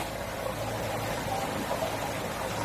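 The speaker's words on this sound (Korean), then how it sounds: "물소리 들리시나요?" Water in a small urban stream flows beside a walking path at Usijangcheon in Suwon on a clear April day. It makes a steady, soft rushing wash that continues unbroken, with no voices over it.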